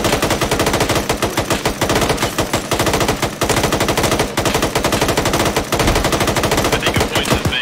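Rapid automatic gunfire from the Arma 3 military shooter game, dense sustained bursts of loud shots rattling almost continuously with only brief gaps.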